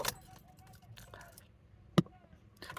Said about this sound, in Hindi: तो सबसे पहले मैं की को लगाता हूँ, गाड़ी को इग्निशन ऑन करते हैं।